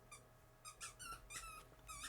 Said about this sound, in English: My dog's just picked up a squeaky toy.